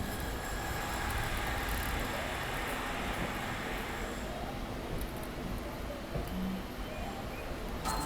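Local train pulling into Chennai Beach railway station, a steady broadband rumble of rolling stock and station ambience that holds level throughout, with faint higher hiss and no clear voices.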